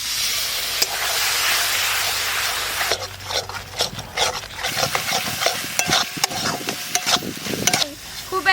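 Water poured into frying dried chili paste for a small fish curry sets off a loud, steady hiss that dies back into irregular bubbling and stirring scrapes.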